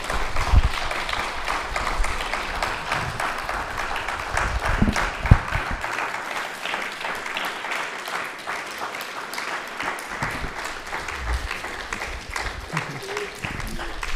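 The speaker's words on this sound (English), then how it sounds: "just like nothing can compare to like an audience clapping" An audience applauds steadily for the whole stretch after a talk on landscape management and ecology, with clapping spread evenly throughout and an occasional louder thump.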